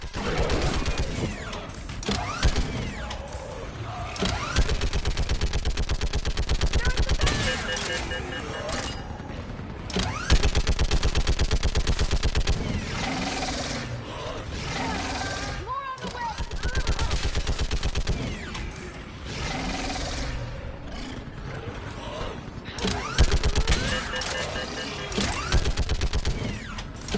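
Sustained automatic gunfire and bursts of shots from a Mass Effect 3 battle, loud and nearly continuous, with voices talking over the combat.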